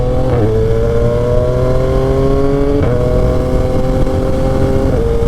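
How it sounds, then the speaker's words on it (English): A Yamaha XSR 900 motorcycle engine drones loudly while riding in midday traffic, and its pitch climbs and then drops sharply at each quick shifter upshift blip, with about three shifts heard over constant road and wind noise. "I love that blip sound when you upshift with the quick shifter"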